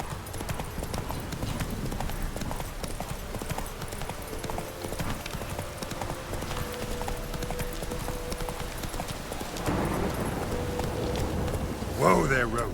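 Roach, a horse in The Witcher 3, gallops with steady rhythmic hoof clip-clops close by, with game music and voices underneath and a brief louder burst near the end.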